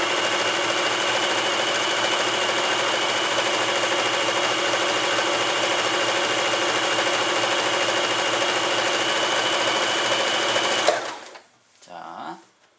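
Elna 120 sewing machine stitching through fabric, a steady, continuous mechanical whir with a fast rhythmic needle clatter, loud and close for about eleven seconds before stopping abruptly, followed by a brief soft handling sound.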